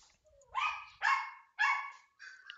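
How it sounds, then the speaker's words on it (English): A dog barks repeatedly in the background during a team-based online game session, four loud, sharp barks spaced roughly half a second apart with a faint whine before the first. "I'm sorry about the barking"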